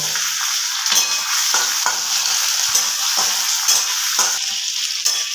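Chopped tomatoes and green chilies sizzle with onions in hot oil, a steady close frying hiss broken by repeated scraping stirs every second or so, with no voices.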